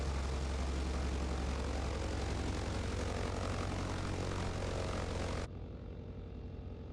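Steady propeller airplane engine drone in a flight simulator game, a loud constant hum that drops in level and loses its upper hiss near the end, with no talk.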